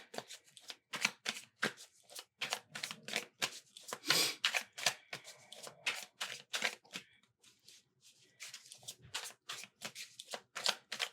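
A deck of tarot cards is shuffled in a long run of rapid, crisp riffling flicks and slaps, close-up and steady with brief pauses, with no voices over it.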